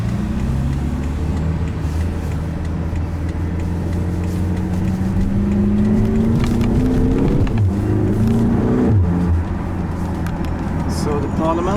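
BMW X5M F85 with 575 HP driving through city traffic in Stockholm, Sweden: a steady, close engine drone and road noise throughout, with rising revs near the end, under someone talking.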